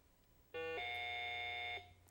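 Quiz bowl buzzer at a high school match, a single loud, steady electronic tone lasting just over a second, close and alone, with no talk over it.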